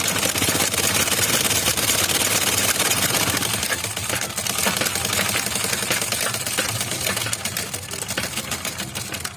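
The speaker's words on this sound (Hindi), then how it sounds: "तो हम इसे सिलाई लगा देते हैं।" A sewing machine stitching a petticoat runs continuously at high speed, a loud dense mechanical rattle that slows slightly toward the end.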